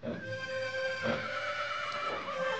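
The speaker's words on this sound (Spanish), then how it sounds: "Sí, está relinchando" A horse whinnies in one drawn-out, shaky neigh with strong harmonic tones, heard alone and fairly close, fading near the end.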